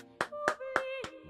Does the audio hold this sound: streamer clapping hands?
yes